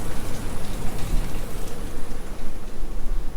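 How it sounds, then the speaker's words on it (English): Steady rain falls on a rainy afternoon outside a hotel balcony overlooking the savanna at Walt Disney World, a dense, loud, even hiss of drops with no voices. "Rainy afternoon out there on the savanna today."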